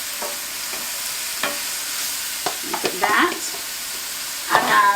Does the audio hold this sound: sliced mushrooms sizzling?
yes